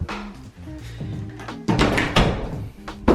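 A house's bathroom door leading to the shower and toilet is opened and shut, giving a few wooden thunks and a louder knock near the end, heard close with no talk.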